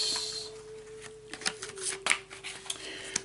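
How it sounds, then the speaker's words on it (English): A deck of cards is shuffled and cut, giving crisp riffling bursts and a few sharp snaps close by over a quiet steady hum. "we just cut the deck there"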